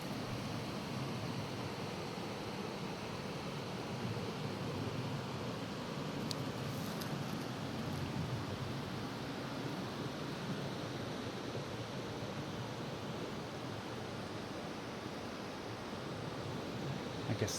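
Creek water flowing steadily outdoors beside a pool where trout live, a continuous broadband rush that stays fairly faint and even throughout, with no talking.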